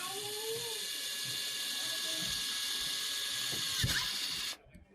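A Jakemy 2-in-1 drill and screwdriver boring through PVC pipe gives a steady, high motor whine with grinding underneath, close up, then cuts off abruptly near the end.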